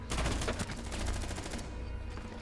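Rapid bursts of automatic gunfire in Rainbow Six Siege, a fast string of sharp, loud shots for about a second and a half, then a fading tail with no talking.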